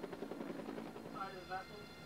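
A Turkish military helicopter hovers over a warship's landing platform as troops fast-rope down, its rotor producing a faint, steady thumping drone, with a narrator speaking over it.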